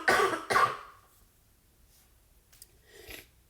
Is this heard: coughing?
yes